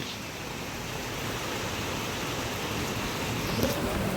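The first monsoon rain of the season falls steadily after a long hot spell, an even, dense hiss of drops on surfaces, fairly close and unbroken, with no voices over it.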